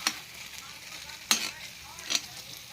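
Sardines frying in a pan while being stirred, a soft steady sizzle cut by two or three sharp scrapes of the utensil, close and fairly quiet.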